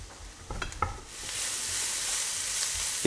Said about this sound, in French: On ajoute la pancetta au mélange d'oignons et là on va augmenter un peu le feu pour bien faire saisir.